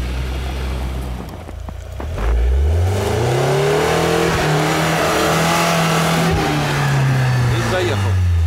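UAZ Patriot engine revving hard as it accelerates off-road, a loud close roar that climbs in pitch and holds steady, with people talking beneath it.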